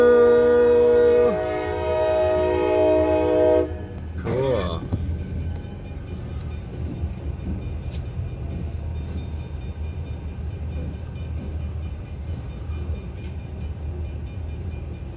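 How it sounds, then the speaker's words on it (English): A train horn sounds loud and steady for several seconds, then breaks off into the rumbling, rattling noise of rail cars rolling past nearby. "Choo-choo!"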